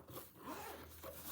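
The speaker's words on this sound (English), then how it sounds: "we'll put this back in here and zip it" An endoscope's carrying case is zipped shut in one quick, close raspy pull that runs steadily without pause.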